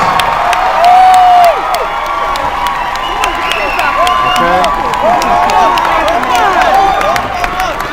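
Large crowd at a Barack Obama rally in New Jersey cheering, shouting and clapping continuously, with one loud whoop near the start and scattered individual yells throughout.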